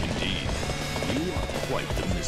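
A horse gallops toward the player in Dynasty Warriors 8, with rapid clip-clop hoofbeats beneath dense battle noise and someone talking over it.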